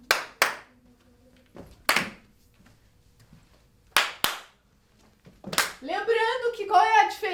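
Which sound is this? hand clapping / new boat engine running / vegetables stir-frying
hand clapping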